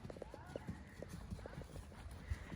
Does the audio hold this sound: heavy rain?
no